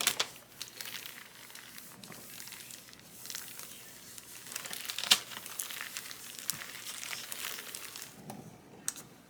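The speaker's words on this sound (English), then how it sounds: "I'm gonna flip it back over so we can peel the carrier sheet off" A hotfix rhinestone carrier sheet being peeled off a hot, freshly pressed tumbler gives continuous close crinkling and soft tearing for several seconds, with small crackles and no voices.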